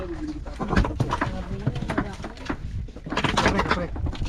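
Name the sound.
bird calling at sea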